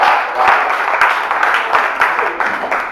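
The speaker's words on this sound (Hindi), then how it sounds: "इस पंक्ति पर आप सभी की तालियां चाहता हूं" Audience clapping at a Hindi comedy poetry show (hasya kavi sammelan) in Haryana, a steady crowd applause with dense overlapping claps and rhythmic surges, close and fairly loud throughout.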